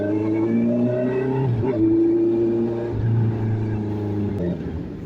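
A Honda CB650R motorcycle's engine revs loudly and close by, with rising and falling harmonic pitch over a steady idle, and a few sharp throttle blips near the end.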